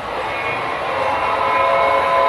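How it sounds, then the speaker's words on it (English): A model railroad steam train sounds its whistle while running on the layout, a sustained tonal blast over a steady rolling rumble, loud and close, with no speech. "the other one blows its whistle approaching the diamond because this train is sitting there"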